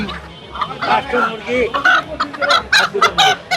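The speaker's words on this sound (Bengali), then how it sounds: "দেশে মুরগির ডাক আর খরিদ্দারের দরদাম" Chickens cluck busily and close by at a crowded, noisy village market in Dhunat, Bogura, Bangladesh, with one crowing, amid bustling chatter and bargaining.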